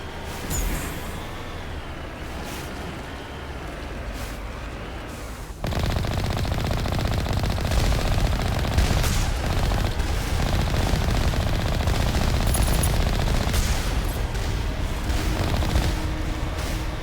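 Rapid bursts of gunfire from the video game Mass Effect, loud and dense, with sustained automatic fire and booms continuing throughout and growing heavier midway.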